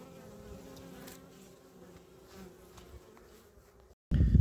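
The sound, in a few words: honey bees buzzing at apiary in November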